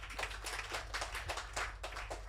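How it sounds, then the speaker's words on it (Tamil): An audience claps at a Tamil religious talk in Chennai, a steady patter of many hands at moderate distance, continuous and fairly even without voices on top. "நல்லா கைத்தட்டலாம்."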